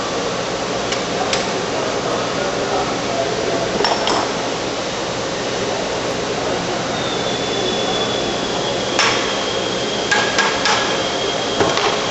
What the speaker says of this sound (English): Using a soft rubber mallet, tap on the edge of the hex head bolt to loosen the bottom half of the clamp.